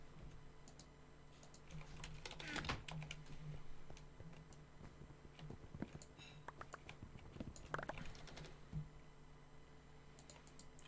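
Quick typing on a computer keyboard, a fairly quiet run of irregular clicking keystrokes with a few louder taps, steady and close throughout.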